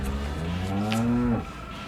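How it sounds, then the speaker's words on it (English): A cow in a French crime film gives one long, loud, low moo lasting over a second, ending abruptly, with no speech. "how could you not want to see the cow"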